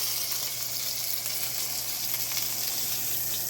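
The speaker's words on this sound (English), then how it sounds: "But you want to sear all those sides." Lamb chops searing in a hot pan, a steady, crackling sizzle with a faint underlying hum, continuous and close with no talking.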